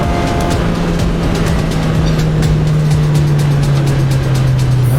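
A Lotus Elise engine drones at a steady, low idle-like pitch from inside the car, limping at reduced revs back to the pits at Silverstone, loud and continuous with a faint ticking rattle.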